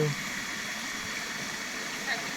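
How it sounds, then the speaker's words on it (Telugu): Spring water coming down from the hills falls and flows at a temple, making a continuous, even rushing wash at moderate distance that holds steady throughout. "ఆ వాటర్ కొండల నుంచి వచ్చిన వాటరు డైరెక్ట్గా ఇలాగా ఇక్కడ పడుతూ ఉంటుంది"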